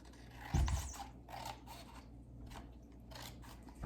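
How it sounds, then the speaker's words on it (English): Scissors snip through paper in a series of short crisp cuts, spaced irregularly, close by and fairly quiet, with a louder bump near the start. "now we're going to take our scissors and remove that rectangle"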